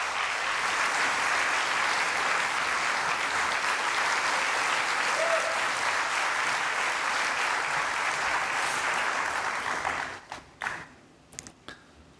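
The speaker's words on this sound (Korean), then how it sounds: "목사님을 큰 박수로 모시겠습니다" A forum audience in a hall claps loudly to welcome a pastor, a dense, steady burst lasting about ten seconds before thinning into a few scattered claps and quiet.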